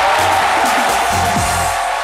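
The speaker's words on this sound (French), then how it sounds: "Merci d'applaudir Dr Philo." Studio audience at a French TV show cheering and applauding a comedian's entrance, a loud, dense crowd sound with whoops throughout.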